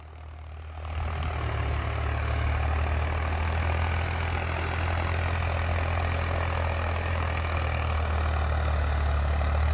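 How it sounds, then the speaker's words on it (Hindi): An Indo Farm 3048 tractor engine runs steadily at a loud, close idle with a deep, constant low rumble that rises at the start and then holds even throughout. "भाई ट्रैक्टर इन्होंने जो लिया हो 3048 इंडो फार्म,"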